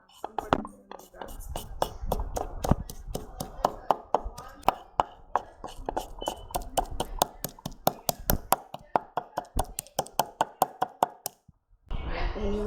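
Onions chopped with a knife on a board for a Nigerian yam vegetable dish: a long run of quick, sharp, evenly spaced knocks, close and clear, pausing briefly before more sound resumes.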